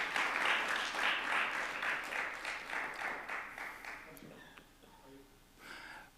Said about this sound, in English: So huge round of applause for all of these.